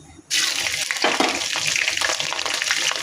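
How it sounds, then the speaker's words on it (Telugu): Whole spices hit hot oil in a pan for chicken biryani, bursting into a loud, steady sizzle right after a short quiet start, with crackling and stirring continuing close up. "నూనె కాగాక ఈ మసాలా దినుసులన్నీ వేసుకోవాలి"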